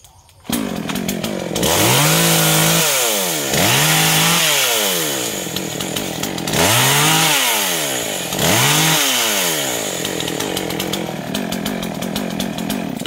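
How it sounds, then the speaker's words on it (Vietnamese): A GZ4350 chainsaw cuts into a large eucalyptus tree up close, its engine loud and continuous, repeatedly rising to a high screaming rev and dipping as the chain bites into the wood. "cái máy cưa đó là máy cưa GZ4350 nha các bạn"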